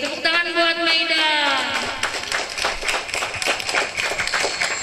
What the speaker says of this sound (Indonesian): Tepuk tangan buat Maida